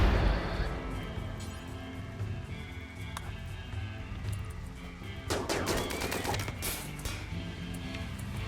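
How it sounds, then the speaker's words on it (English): Gunfire rattles in RimWorld as colonists shoot over walls, with dense bursts through most of the stretch and a louder flurry of shots near the end against a busy game soundscape. "Firing over walls!"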